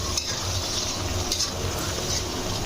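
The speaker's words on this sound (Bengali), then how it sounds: "সবগুলো একসাথে খুব ভালো করে কষাবো" Chicken curry spices and potato pieces stir-fried together in a pan, giving a loud, dense, constant sizzle with scraping stirs and light utensil clicks close by.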